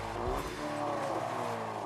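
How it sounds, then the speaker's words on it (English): A car engine revs hard through an Akrapovic exhaust, producing a loud, close, rising engine roar with rumbling low end; the crackling pops and bangs are not clearly distinct. "we do feel the pops and bangs from the cheeky Akrapovic exhaust"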